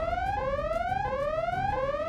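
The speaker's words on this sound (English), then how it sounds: "Why is the alarm going off?" A car alarm wails in repeated rising sweeps, about four cycles in two seconds, steady and fairly loud with no talking.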